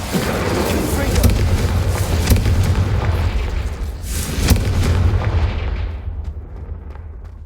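Heavy blasting-spell explosions in the Hogwarts Legacy castle of Rookwood, a dense run of deep booms and bursts with rumbling low end that carry on steadily before tapering away near the end.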